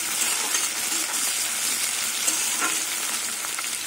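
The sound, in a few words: onions frying in oil with green chillies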